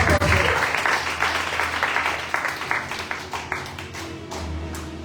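A church congregation at a Sunday service in Abidjan applauding to acclaim the Lord, a dense wash of many clapping hands that fades slightly then swells again, with some voices mixed in.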